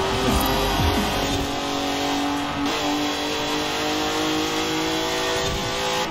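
A V8 police car engine in Forza Horizon 4 revs hard and continuously for several seconds, loud and close, with the pitch rising and a brief dip partway through before climbing again.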